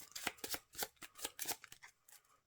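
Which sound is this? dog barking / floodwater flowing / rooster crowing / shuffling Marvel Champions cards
shuffling Marvel Champions cards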